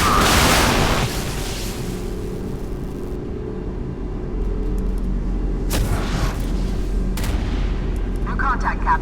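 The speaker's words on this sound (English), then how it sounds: "Port side turret." Naval turret guns firing aboard a CN Type 956E Hangzhou destroyer in the video game Modern War: a loud heavy boom opens, then a sustained low rumble with a few sharp reports, with intermittent radio voices.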